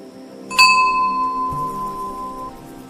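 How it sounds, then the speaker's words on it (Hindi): Small iron bell struck once and gently, giving a clear single ring that sustains and slowly fades, heard alone in a quiet room. "काशी ने धीरे से घंटी बजाई।"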